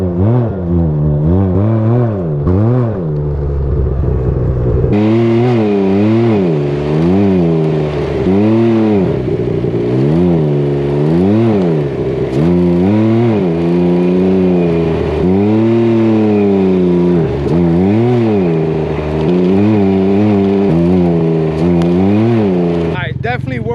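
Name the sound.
Can-Am Ryker three-wheeler revving and riding on dirt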